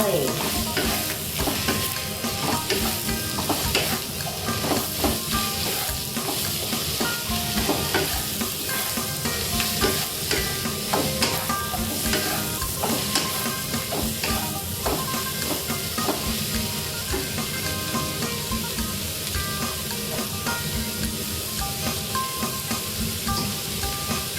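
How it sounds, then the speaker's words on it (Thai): Chopped winter melon stir-fries in a hot pan with egg, giving a steady, loud sizzle and hiss broken by frequent scraping and clinking of the spatula, all close by and without talk. "จากนั้นเราก็เทฟักลงไปผัดเลยค่ะ"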